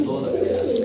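Large pigeons, including red dobaz and kalsari breeds, coo in a separate loft setup, a steady low murmur running close and continuous for under a second.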